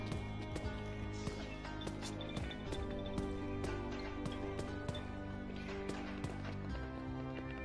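Horse hooves clop in a quick rhythmic gallop in the video game Forsaken, a steady run of sharp hoofbeats over a low background.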